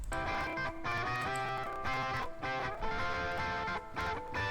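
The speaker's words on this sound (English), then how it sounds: "This is the sound of the guitar without any EQ." Unprocessed guitar stem from a studio multitrack session, dry with no EQ, playing dense sustained chords at a steady, full level alone without any voices.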